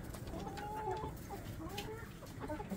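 Hens and roosters cluck and murmur softly at a distance on a homestead as they come in to roost, over a steady background hum, with scattered short calls throughout.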